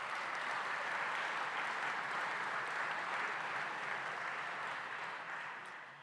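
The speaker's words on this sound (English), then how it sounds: "let's give them all a round of applause for their gifts" An audience gives a sustained round of applause at a community plant giveaway, a dense, steady wash of many hands clapping that holds for several seconds before tapering slightly at the end.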